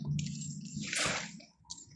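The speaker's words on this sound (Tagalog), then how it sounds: "Ito naman lumabas yung tubig." Floodwater from a house flood pushing out through a gap in a concrete wall: a close, wet gush and squelching slosh that swells for about a second, then fades, with a brief splash at the end.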